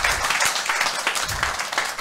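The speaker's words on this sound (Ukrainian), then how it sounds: "дайте Юрі оплески" Audience applause at an underground stand-up comedy show with crowd improvisation, a steady patter of many hands clapping at moderate loudness for a couple of seconds.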